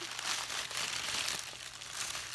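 Paper crinkling during an ASMR fiber and roving unboxing, a soft, continuous close-up rustle with small crisp crackles throughout and one slightly sharper crunch at the end.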